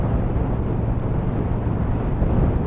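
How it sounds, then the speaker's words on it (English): Steady, loud wind roar buffets the microphone while riding a Honda CMX1100 Rebel motorcycle, a dense unbroken rush with engine drone underneath and no talk. "The wind blast is quite loud actually."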